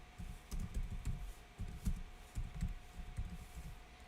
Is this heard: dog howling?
no